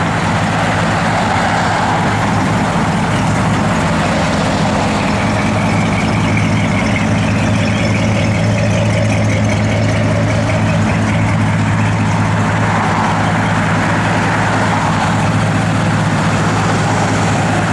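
A 1961 Chevrolet Impala SS Bubble Top sits idling outdoors, its engine a steady low rumble with a constant droning hum throughout, close and fairly loud with no talking.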